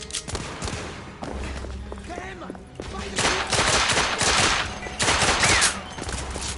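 Rapid volleys of gunfire from The Order 1886 on PS5, a bar shootout, with dense bursts of shots and thuds that swell loud in two long stretches, mixed with a voice calling out.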